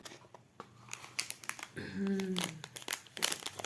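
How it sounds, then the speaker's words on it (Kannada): A box holding earrings and a necklace is opened, with close crinkling and rustling of packaging in quick, irregular bursts, including a short tearing stretch. "ಇಯರಿಂಗ್ಸು ಮತ್ತು ನೆಕ್ಲೆಸ್ಸು ಇರೋಂಥದ್ದನ್ನು ಬಾಕ್ಸು ಓಪನ್ ಮಾಡಿ ನಾನು ನಿಮಗೆ ತೋರಿಸ್ತೀನಿ"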